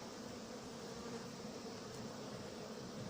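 A hornet buzzing inside a 6 mm mesh anti-hornet tent, with a steady, close, continuous drone and no voices.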